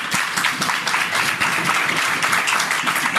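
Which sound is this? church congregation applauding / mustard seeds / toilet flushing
church congregation applauding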